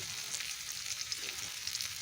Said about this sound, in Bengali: পেঁয়াজ লঙ্কা রসুন লাল লাল করে ভাজা হয়ে গেছে কিন্তু এখন আমি দিয়ে দেব সেই ভাপিয়ে রাখা শাকটা